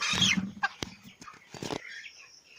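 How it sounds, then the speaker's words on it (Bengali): A 24-day-old broiler chicken is caught for weighing, giving a few close clucks and squawks with brief flaps and scuffles, then fading to quiet. "আমি একটু মুরগিকে ধরে নিলাম দেখি এই মুরগিটার ওজন কত হয়"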